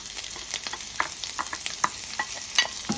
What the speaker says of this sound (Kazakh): қызып тұрған табамызға пиязымызды салып